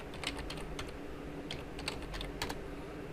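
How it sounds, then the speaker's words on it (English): Someone types briefly on a computer keyboard while logging into a home wireless router, a short run of soft, close key taps in an uneven rhythm, faint and without talking. "So I'm just going to type in admin"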